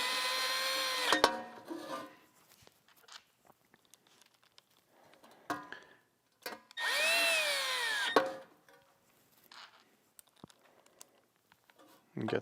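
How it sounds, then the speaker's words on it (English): A 5/16 power driver sinks self-tapping screws into a lawn mower blade sharpener's grit guard, whirring in several short loud bursts separated by quiet pauses and small tool clicks. "get your 5/16 driver and the self-tapping screws that came with the unit"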